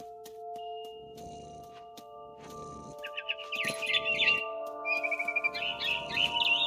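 Bird chirping in the video game What Remains of Edith Finch, bright twittering calls in short bursts over sustained ambient game tones and soft ringing notes.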